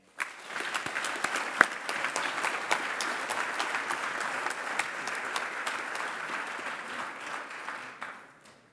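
Sustained audience applause fills a gala hall after a guest of honour is introduced, a dense wash of many hands that starts abruptly, holds steady and loud, then fades out at the end, with no talk over it.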